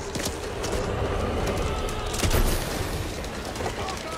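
Rapid bursts of gunfire from a weapon in the video game Back 4 Blood, loud and dense with sharp cracks and one heavier boom, running continuously.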